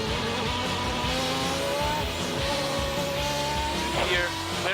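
A Superleague Formula race car at Estoril accelerates hard out of a corner with a loud rising engine note and an upshift, while a voice talks over it.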